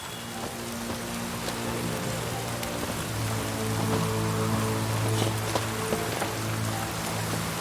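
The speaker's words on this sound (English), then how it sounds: "Looks like rain." Rain falls steadily in The Witcher 3: Wild Hunt, a continuous soft patter of drops on surfaces, with faint sustained musical tones underneath.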